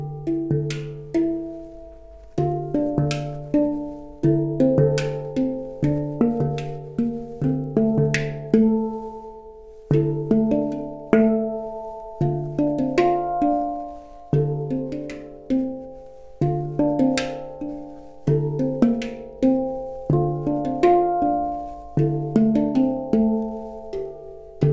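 A handpan struck by hand in short melodic phrases, its ringing metallic tones overlapping and decaying between strokes in a steady, rhythmic pattern, close and clear with no talking.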